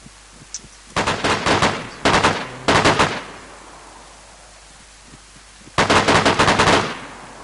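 Gunfire in the DayZ video game comes in four loud bursts of rapid automatic fire, with a faint distant shot before them and quiet pauses between bursts.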